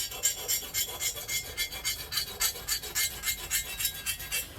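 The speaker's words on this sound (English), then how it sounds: "I'm just going to deburr. I'm going to go around the top of the cylinder." A hand file rasps rhythmically across the top edge of a cast iron motorcycle cylinder from a Kawasaki KE100 top end, steady back-and-forth strokes up close with no talking.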